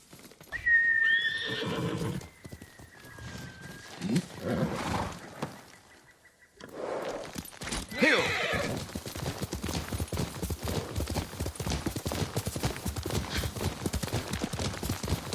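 A horse in the Ghost of Tsushima video game gives a loud, clear whinny, followed by a brief pause and then a long stretch of steady clip-clopping hooves at close range.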